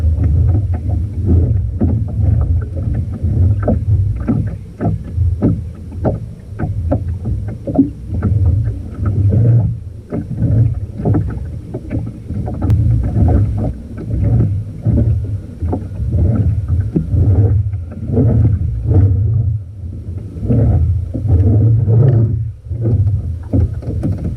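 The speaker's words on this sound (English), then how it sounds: "the rowing with the purchased oar was much easier" Wooden oars rowing a small DIY wooden sailboat, steady repeated strokes with low rumbling water and wind noise throughout, no talk.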